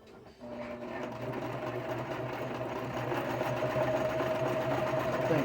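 A sewing machine stitches zigzag on a face cover, a steady, rapid mechanical whir with a rattling rhythmic clatter that starts abruptly and runs continuously up close.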